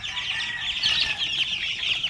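Young month-old White Boston chickens cluck and peep in a busy, close chorus of shrill chirps, with some wing flutters, continuous throughout.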